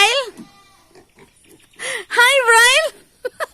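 Pigs on a farm grunt and squeal in short bursts close by, mixed with people talking over them.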